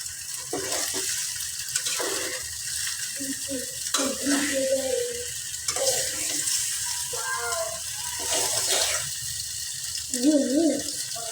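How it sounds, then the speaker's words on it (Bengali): Chicken pasta and noodles being stirred in a pan, with steady scraping and soft sizzling over a constant hiss, accompanied by intermittent clinks and some background noise. "আস্তে আস্তে মিশিয়ে নিতে হবে সবগুলোকে"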